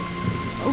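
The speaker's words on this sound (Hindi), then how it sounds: "वो बारिश बहुत तेज हो रही है" Steady heavy rain hisses down with a dense, constant wash, a faint rumble underneath.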